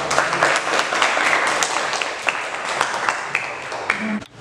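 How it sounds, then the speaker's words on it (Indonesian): A classroom group gives a round of applause for group 4, a fairly loud, continuous patter of many hands clapping that fades slightly toward the end, with some faint voices mixed in. "Aplaus untuk kelompok"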